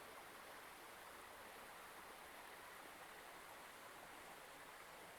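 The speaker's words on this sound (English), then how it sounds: "You notice the stream, the water, clear," Clear stream water flows gently in a steady, soft, continuous wash without pause, calm and even throughout.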